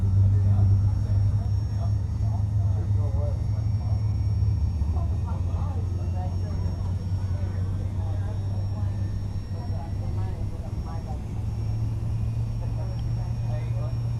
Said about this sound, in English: Beautiful engine sounds. On startup.